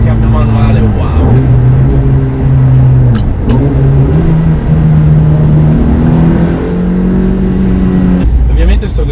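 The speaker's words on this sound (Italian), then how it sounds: "Sentire questo motore sopra gli 8000 giri e cambiare marcia" A manual Ferrari F430 engine revs loudly and continuously above 8000 rpm, its rising pitch dropping sharply with each gear change, two shifts in all, heard from inside the car with a voice faintly underneath.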